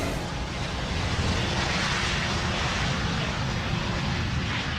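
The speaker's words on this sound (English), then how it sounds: "The DC-10 can fly comfortably on its remaining 2 wing-mounted engines." Steady broadband roar of a DC-10 airliner's wing-mounted engines in flight, a continuous loud rush with no breaks and no voices.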